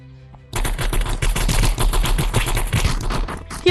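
Video game gunfire erupts after a quiet moment: a loud, rapid burst of automatic shots rattling continuously for about three seconds, close and dominant, with no talk over it.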